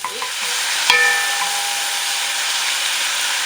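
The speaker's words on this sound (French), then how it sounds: "Donc les oignons sont cuits, on va y mettre la viande." Beef hits hot oil in a pan of cooked onions for a Vietnamese bo bun, a steady sizzling hiss close up after a brief clatter of stirring.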